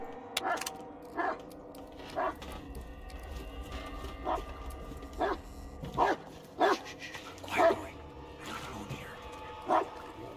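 A dog barks in short, scattered bursts, some sharp and some yelping, over a steady hum of background music and game sounds in Blair Witch (2019).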